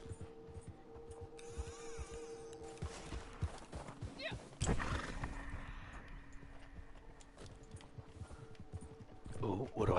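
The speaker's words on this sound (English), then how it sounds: "Ooh, what do I hear? I hear a horse." A horse in the Red Dead Redemption 2 video game: hooves clop and a neigh rises amid ambient game sounds and watery noise, with a louder burst midway and a person talking over parts of it.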